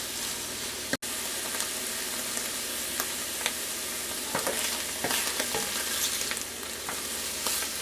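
Onions and mushrooms fry in a pan for hamburgers Diane, making a continuous soft sizzle. Scattered spatula clicks and scrapes are heard near the start, along with a brief sharp knock, and no voices.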